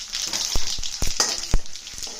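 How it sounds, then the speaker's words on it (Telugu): Garlic dropped into hot oil with a dried red chilli and tempering seeds, giving a steady close sizzle with a few sharp crackles and spatters, and no talk. "ఇప్పుడు ఆయిల్ హీట్ ఎక్కింది ఒక మిరపకాయ తాలింపు గింజలు వేద్దాం ఇప్పుడు వెల్లుల్లి వేద్దాం"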